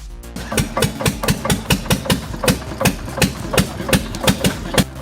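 A chainsaw engine runs during logging work, loud and close, with fast, regular chugging pulses throughout.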